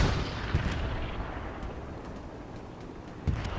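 Explosions and booming artillery-like blasts in the World War II shooter Hell Let Loose, a heavy rumbling barrage with sharper bursts near the start and end over continuous low battlefield noise.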